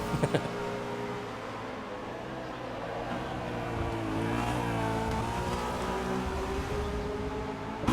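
V8 Supercars from a racing video game running nose to tail, a sustained layered engine drone with shifting pitches as several cars rev and pass closely, steady and fairly loud throughout.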